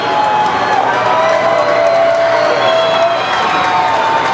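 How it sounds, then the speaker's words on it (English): High school football crowd in the stands cheering on the Huskies during a Spartans fourth down, a continuous roar of voices with scattered shouts and whoops, fairly loud and sustained throughout. "Hear the crowd get into it a little bit here to help the Huskies"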